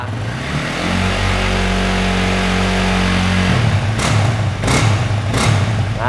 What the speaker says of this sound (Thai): นี่ครับคันนี้เป็นท่อผ่า